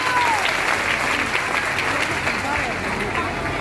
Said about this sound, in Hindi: उस परिवार के लिए जोरदार तालियों से उनका स्वागत किया जाए।